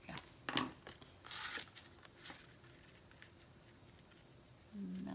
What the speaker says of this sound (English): But the scissors will get them off.